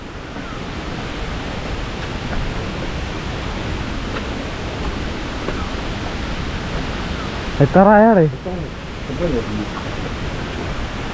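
A distant waterfall on a forest trail gives a constant broad roaring hiss throughout, with a brief spoken exclamation near the end.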